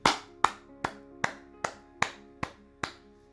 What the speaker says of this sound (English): Let's clap it up for the Most High Power of Israel for being the first prophet.